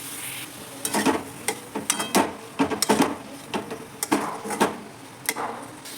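Paneer cubes frying in a spoonful of oil in a kadai, with stirring scrapes and clinks over a soft steady sizzle, close and moderately loud.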